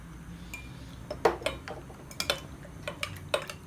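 Tuna pasta salad with mayonnaise and lemon juice being mixed in a bowl with a spoon, a series of close, sharp clinks and scrapes of the spoon against the bowl over a quiet background, irregular and without talk.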